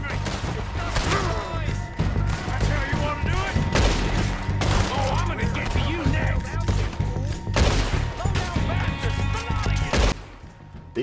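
Gunfire in the Red Dead Redemption 2 video game during an O'Driscoll raid, dense shots and booming fusillades crackling throughout, with voices shouting under the firing.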